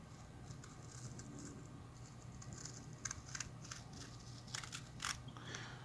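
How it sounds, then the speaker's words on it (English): Scissors carefully cutting a straight line through a patch for repairing a down jacket give faint, quiet snipping clicks, sparse at first and bunching into several crisp cuts toward the end, with no talk. "Very carefully cut the patch."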